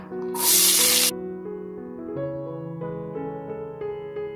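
Sliced small shallots and a large onion hitting hot oil for a country chicken pepper fry, a loud burst of sizzling at the start that quickly settles under a steady tonal hum in the kitchen.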